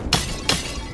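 Pottery shattering in the video game Curse of the Dead Gods, two sharp crashing breaks about a third of a second apart, close and clear with no talk.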